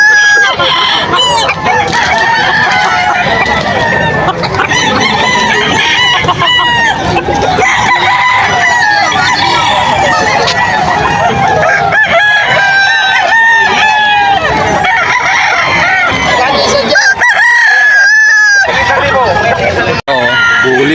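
Young roosters crow and cluck loudly and continuously at a busy poultry market in Bocaue, Bulacan, with several birds calling over one another and crowd chatter running underneath.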